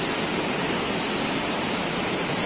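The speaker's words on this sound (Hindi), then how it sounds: "इधर से भी पानी नीचे जा रहा है और ये वाला भी पानी नीचे जा रहा है" Water plunges into a deep gorge at the Fish Point waterfall in Mainpat, a dense, unbroken roar of rushing spray, loud and steady throughout with no voices.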